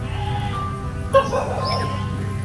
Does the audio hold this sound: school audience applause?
no